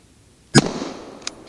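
A hunting rifle shot fired at a large wild boar during a December hunt rings out as one sharp, loud blast, followed by a decaying rumble and a fainter crack just under a second later.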